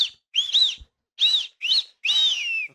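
Loud whistle blown in support of the Chennai Super Kings cricket team: five sharp, shrill blasts in quick succession, each rising and falling in pitch, the last one held longer, with short silences between.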